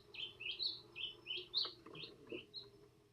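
An Inti tanager sings a series of high, bright chirping notes in quick repeated phrases, fairly clear over a faint background hum.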